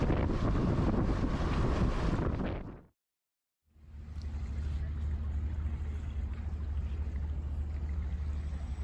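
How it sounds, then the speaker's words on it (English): Strong wind roars across the microphone aboard a homebuilt sailboat cruising Portugal's Algarve coast against the tide, loud and steady, cutting out briefly before returning as a constant low rumble with water noise. "the wind is significantly more than forecast"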